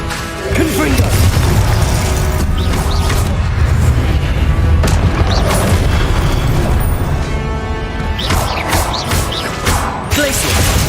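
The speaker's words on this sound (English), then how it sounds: "Confringo." Continuous loud Hogwarts Legacy combat with booming magical blasts from the Confringo fire spell, repeated bursts and crashes layered with music, and a voice calling out spells.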